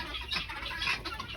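Backyard Rhode Island Red chickens cluck softly in short, irregular bursts, fairly faint and close, with no talking.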